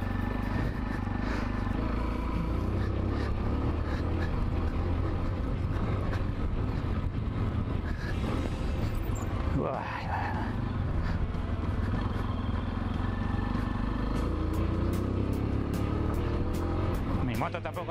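A 125cc trail motorcycle engine revs and drones continuously at close range on a motocross circuit, rising and falling with the riding, with some talk mixed in.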